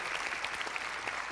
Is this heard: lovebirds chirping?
no